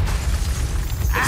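A Bombarda blasting spell detonating in the Hogwarts Legacy video game, a short, loud, rumbling boom with crackling debris that fills the whole moment and ends with a bright hiss.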